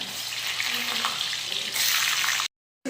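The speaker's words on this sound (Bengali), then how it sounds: "তারপরে পনিরগুলো ভেজে নেব" Paneer pieces frying in hot oil in a kadai make a dense hissing sizzle that grows louder midway, then cuts to a brief silence before resuming.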